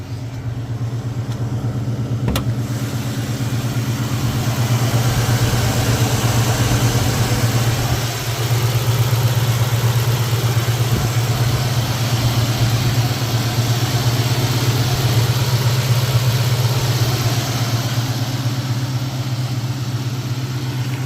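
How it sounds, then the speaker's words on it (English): An Infiniti M45 V8 engine idles steadily, a smooth low hum with a constant tone and no ticking or knocking, held close and unchanging throughout with no talk. "starts right up. Beautiful V8 sound to it."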